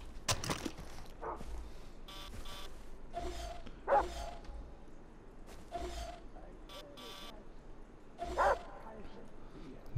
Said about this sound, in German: Ein Hund. Hunde sind nie gut.